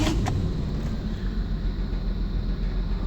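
A 1995 Chevy Blazer engine, cold-started after sitting unused for a long time, runs with a steady low rumble close by, after a brief click and start at the very beginning.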